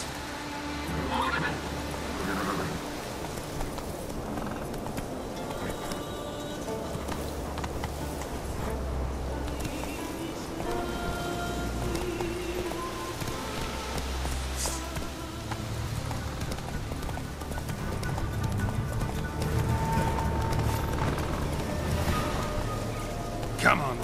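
Horse hoofbeats and whinnies from The Witcher 3 video game as the rider spurs the mount on, a steady gallop rhythm with music and ambient sound layered underneath throughout.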